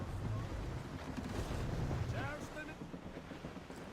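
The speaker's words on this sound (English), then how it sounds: "She bites with a fierce wind." In the Assassin's Creed Rogue video game, a sailing ship moves at sea under a fierce wind, with a continuous roar of wind and surging water and faint calls and voices in the background.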